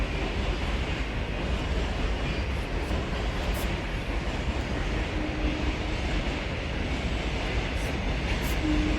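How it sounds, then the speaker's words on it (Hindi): A train rolls past on tracks beside the National Rail Museum in Delhi, a steady, dense rumble and clatter that stays loud and unbroken throughout, with no talk over it. "देखिए गाइस, ये ट्रेन जा रही है इधर से,"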